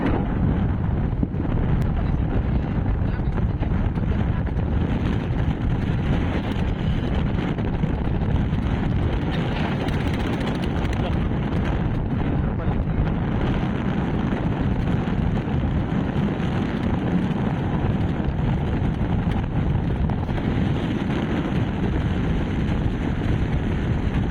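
Strong wind buffets the microphone aboard a boat off Palawan, a constant low roaring rush with an engine-like drone beneath.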